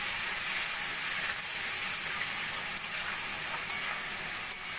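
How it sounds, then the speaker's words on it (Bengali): Ginger-garlic paste, salt, turmeric, Kashmiri chilli powder and tadka masala sizzle in a hot pan, a steady, close, bright hiss with faint stirring scrapes throughout. "ভালো করে সব কিছু মিশিয়ে নেব।"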